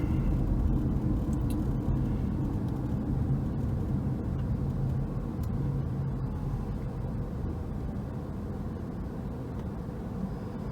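A car drives along a road on the Isle of Arran, heard from inside as a steady, broad low rumble of engine and road noise that holds evenly throughout with no talk.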